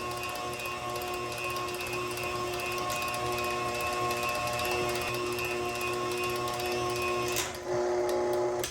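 An electric mixer whips masa with lard in a kitchen, giving a steady, moderately loud mechanical whir with a constant motor tone that changes abruptly near the end as it slows or shifts.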